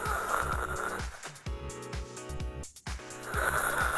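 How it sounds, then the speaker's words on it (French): A person snores loudly in rough, rasping breaths, with a brief gap before the snoring resumes at close range. "Mais tu ronfles."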